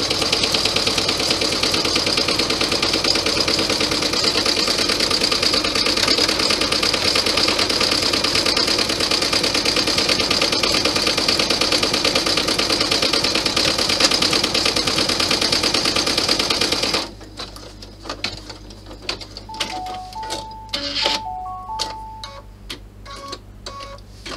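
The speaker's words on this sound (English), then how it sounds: "You can sew them up on the sewing machine." A sewing machine runs steadily with a loud, buzzing whir for a long stretch, then stops, leaving quiet ticks and clicks.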